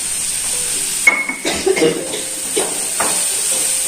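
Onions frying in a pan, a continuous bright hiss broken by a few stirring scrapes and soft clatters, close and fairly loud.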